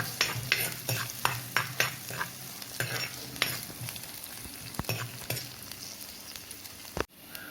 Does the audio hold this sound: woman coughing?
no